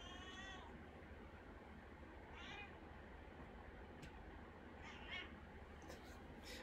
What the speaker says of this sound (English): Grabbing my cat so she stops yelling at me.